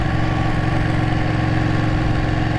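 A Ducati Panigale motorcycle engine runs at a steady idle, close and loud, with an even throbbing pulse and no speech over it.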